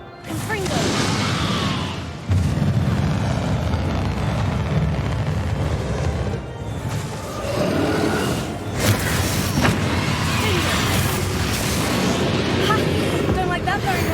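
A Confringo spell blast in the game Hogwarts Legacy: loud booming, crashing explosive bursts, with a sharp surge a couple of seconds in and further blasts near the end over a dense, rumbling battle din.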